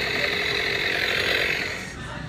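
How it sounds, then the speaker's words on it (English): Battery-powered animated Halloween toy chainsaw prop from a Halloween store, running with a steady buzzing whir throughout and tapering off slightly near the end, close and fairly loud. "now, see, this one says animated chainsaw"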